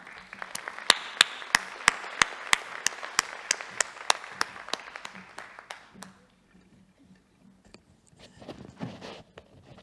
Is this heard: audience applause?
yes